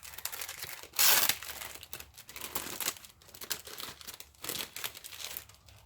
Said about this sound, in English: Excuse the paper crinkle.